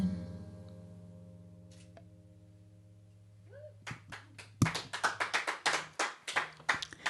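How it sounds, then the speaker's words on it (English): A small room audience claps after a live song, starting as scattered taps then swelling into steady, fairly close applause that fills the second half after a sustained fading chord. "this is the first live stream I've done where there's been like people in the room clapping after"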